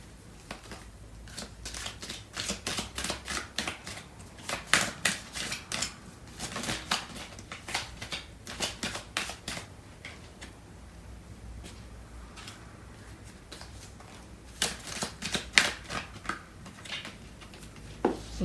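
Tarot cards being shuffled, repeated bursts of crisp riffling and flapping card noise in irregular rhythm, close and moderately loud, separated by short quiet pauses and no talk.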